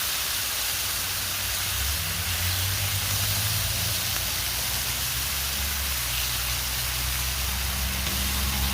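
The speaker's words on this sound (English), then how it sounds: "So we're going to cook this bacon a little bit" Bacon cooks on a hot outdoor grill for smash burgers, producing a loud, steady, close sizzling hiss that continues unbroken throughout, with no talking.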